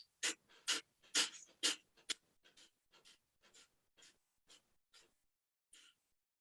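Deep breathing through the nose during a sophrology relaxation exercise, a series of close, distinct sniffing inhales and exhales in a steady rhythm, strong at first and growing softer and more spaced toward the end.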